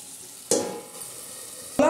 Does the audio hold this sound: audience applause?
no